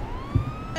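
Ambulance siren in GTA 5, a steady rising wail carried through game sound, with a brief low thump partway through; no talk.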